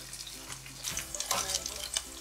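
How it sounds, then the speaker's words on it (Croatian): Onion sizzles and crackles in a pan still greasy with fat from roasting meat, close and lively, with stirring scrapes and bursts of spattering. "Dok nam se tamo lukić prži"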